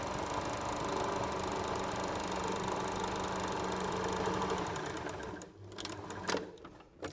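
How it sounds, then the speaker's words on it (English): A sewing machine runs a straight stitch through main fabric and lining, a fast steady mechanical whirr close by that stops near the end, followed by a few brief knocks. "sewing together the short ends of your main fabric and your lining"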